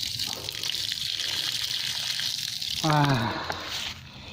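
Water is poured onto banana shoots being planted in dry-season soil, making a steady splashing trickle, with a voice breaking in near the end.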